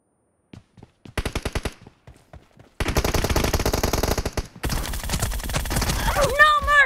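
Gunfire in a PUBG team deathmatch, a mobile shooter game: a few isolated shots, then long, loud rapid-fire automatic bursts, with voices talking underneath.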